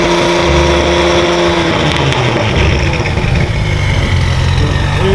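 A 600 hp car engine with its exhaust valve open revs hard on a circuit, loud and close, with a steady high drone broken by throttle swells and a rasping exhaust note.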